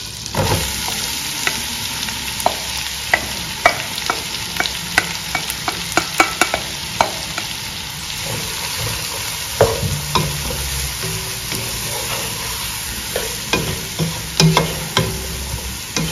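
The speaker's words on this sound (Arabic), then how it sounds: "دابا غادي نديرو زبيدة، شوية عليكم. دابا غادي نرميو البصلة" Onion frying in butter in a pan for chicken stroganoff, a steady close sizzle broken by frequent sharp scrapes and clicks of stirring, with no talking.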